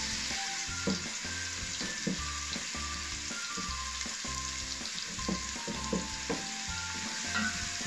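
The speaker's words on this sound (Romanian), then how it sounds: "Adăugăm jumătate usturoiul, călim" Garlic sizzles steadily in hot oil in a pan for a quick ghebe mushroom dish, a constant crackling hiss broken by regular scraping stirs from a utensil, close and continuous with no talking.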